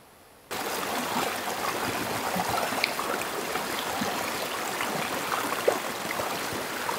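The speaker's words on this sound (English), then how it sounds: "I was watching the creek there." A creek running beside a roadside spot, a close, steady rushing babble that begins abruptly and carries on evenly, with a few small splashes and no voices.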